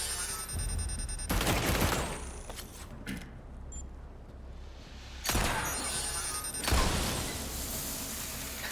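Gunfire and explosive bursts in Resident Evil 4 Remake as trip mines are shot, with loud broadband blasts around two and five seconds and dense action noise between them.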